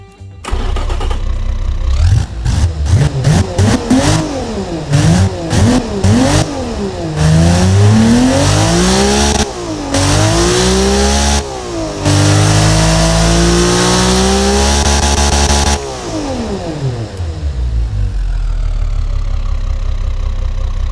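A car engine fitted with long tubular headers starts, then revs hard in repeated rising and falling sweeps before settling to a loud, steady idle.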